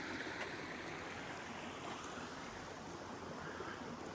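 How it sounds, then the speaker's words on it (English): A river rushes past a small beach in an Oregon forest, a steady, faint broadband wash of flowing water with no breaks. "Peace by a riverbed."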